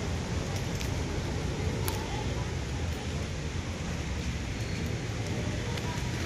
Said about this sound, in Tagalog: grabe, lakas ang ulan dito